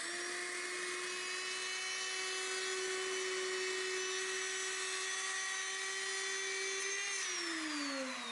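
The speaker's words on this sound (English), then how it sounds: "So the router just rides on these 2 pieces of wood" A steady, loud whining drone from a router riding a jig to plane an epoxy and colored-pencil slab, with a sustained high pitch, continuous for several seconds, dropping slightly as it winds down near the end.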